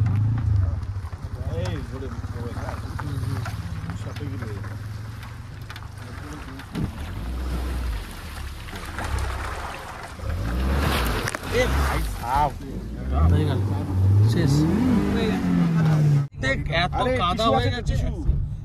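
A car on a muddy rural road in Purulia drives through a small water crossing, with a rumbling engine, wind buffeting and splashing water up close while people talk throughout.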